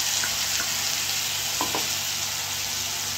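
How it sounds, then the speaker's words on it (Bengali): Spice paste and onion fry in oil in a pan for a fish curry, giving a loud, continuous close sizzle with occasional faint stirring scrapes. "ভালো করে মশলাটা কষিয়ে নেবো"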